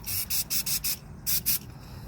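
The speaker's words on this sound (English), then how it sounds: "we're gonna spray some brake cleaner on the piston itself" Brake cleaner sprays in short aerosol hissing bursts onto the piston of a VW Caddy van's rear brake caliper, about seven loud close spurts in quick rhythm with brief pauses between them.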